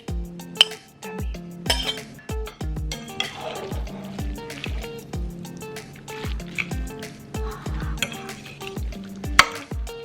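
Ram-don noodles and steak stirred in a pan, with repeated clinks of a utensil against the pan at a quick irregular rhythm over a soft sizzle, close and fairly loud.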